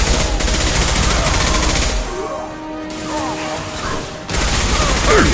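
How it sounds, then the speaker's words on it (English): A heavy high-impact gunshot rings out in Mass Effect 2, loud bursts of fire up front and again at the end, with a quieter gap of lingering reverb and faint tones between. "Firing a high-impact shot!"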